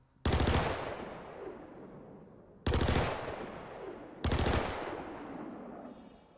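Three separate rapid bursts from a Klaus and Werner Lumin V submachine gun firing at a crate in Star Citizen, each a loud close rattle with a long echoing tail, spaced a couple of seconds apart and with no talking.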